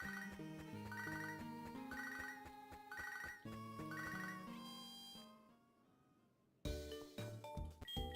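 Ringing phone tone in a Pokémon Nuzlocke video game, a repeating chiming jingle with bright tonal bursts over game music, pausing briefly before the music resumes.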